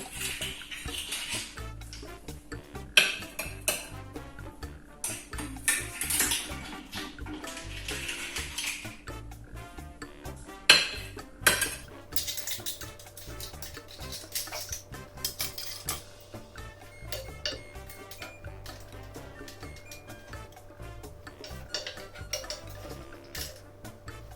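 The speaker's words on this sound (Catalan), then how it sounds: "ara procedirem a emplatar-ho" Cutlery clinks and taps against plates and pans while aunt Maria's monkfish dish is plated, irregular close clatter over a quiet backdrop with a sustained tone later, no talking.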